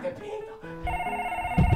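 A telephone rings in a video game, a repeating electronic bell tone, while someone talks over it and game sounds shift underneath.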